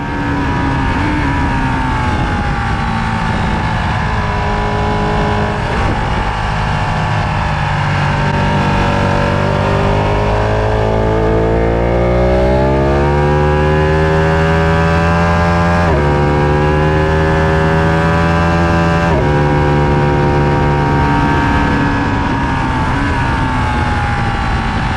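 A motorcycle lapping a race track at a trackday, a loud continuous engine roar rising and falling through the gears, with pitch sweeping up under acceleration and dropping on shifts, close and unbroken throughout.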